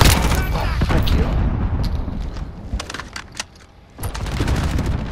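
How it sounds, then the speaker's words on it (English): Rapid gunfire and explosions from the Call of Duty Modern Warfare video game, loud bursts and crackling shots with a brief lull near the end before firing resumes. "What's all that explosion happening right now?"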